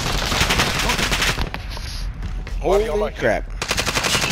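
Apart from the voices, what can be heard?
assault rifle or LMG gunfire in a video game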